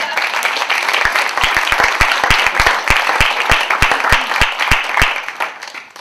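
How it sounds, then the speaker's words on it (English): Applause from the audience at a conflict resolution alumni career panel: dense steady clapping throughout, with several louder, close individual claps standing out, fading slightly at the end. "let's get some applause going."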